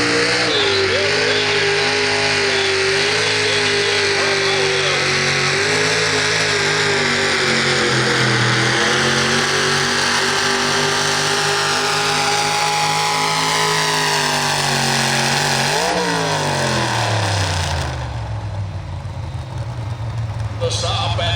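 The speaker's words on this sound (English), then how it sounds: "And down a tractor called Gerald" Loud, sustained roar of a pulling tractor engine at a county fair truck and tractor pull in Guernsey County, Ohio, its pitch climbing and holding under strain, then dropping sharply as the run ends, with an announcer talking over it.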